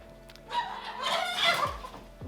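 Chickens clucking and a rooster crowing nearby, with busy overlapping bird calls rising and falling throughout.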